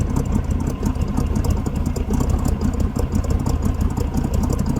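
Truck engine with a lumpy, choppy idle at about 600–700 RPM, likely from a non-stock cam, loping steadily and close with no talk.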